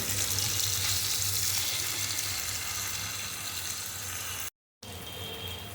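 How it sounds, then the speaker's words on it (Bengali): Chicken pieces fry in a pan with a dense, close, steady sizzle that drops briefly to silence before resuming slightly quieter. "এবার আমি এগুলোকে উল্টে দেবো, আর এক পিঠ ভেজে নেব।"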